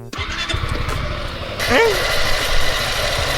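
A Honda ADV350 scooter with about 50,000 km and a worn drive belt idles with a lumpy, rhythmic engine note and a faint rattling chatter from the drivetrain, close by; a voice speaks briefly over it.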